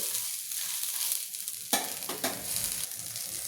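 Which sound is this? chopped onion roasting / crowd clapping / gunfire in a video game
chopped onion roasting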